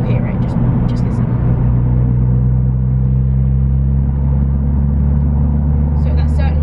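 A car fitted with a Scorpion exhaust pulls hard under full throttle from about 60, its deep engine rumble and exhaust drone steady and loud throughout, heard from inside the cabin.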